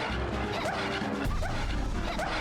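Barking and yelps from the Cerberus dogs in the game Castlevania 64 come in a few quick bursts, set against heavy, continuous music and crashing hit sounds.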